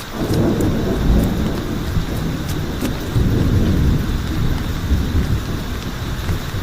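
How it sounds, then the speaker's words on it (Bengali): Sudden heavy rain pours down steadily with rolling thunder, a dense, loud storm roar filling the whole stretch without any voices. "হঠাৎ মাঝ রাস্তায় ঝেঁপে বৃষ্টি এলো"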